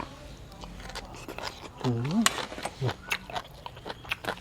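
Close crunchy biting and chewing of a fried omelette made with red ant eggs, eaten with spicy papaya salad, with a brief voice in the middle.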